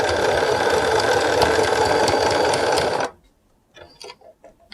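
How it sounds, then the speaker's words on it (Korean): A sewing machine stitches elastic into the waistband of wide-leg pants, running loud and steady for about three seconds before stopping, followed by a few faint handling clicks. "천천히 그냥 박아주고 다시 고무줄을 돌려줍니다"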